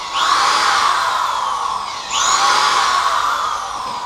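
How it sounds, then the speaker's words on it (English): A power drill whines steadily as it bores into wood for a stilt walker costume, close and loud, with a brief dip in pitch midway before it speeds back up. "And then I would simply take the drill"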